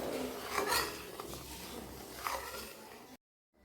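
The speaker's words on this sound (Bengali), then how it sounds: "বন্ধুরা, আমি দুধটাকে নেড়ে চেড়ে নিচ্ছি।" Spoon scraping and stirring milk in a cooking pot while it is cooked down for kheer, giving soft irregular metallic scrapes and clinks that run steadily, then stop abruptly.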